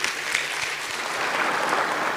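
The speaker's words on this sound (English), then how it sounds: "And round of applause." An audience at an Africa Finance Corporation 15th anniversary event applauds, a dense, even wash of clapping heard steadily from start to finish.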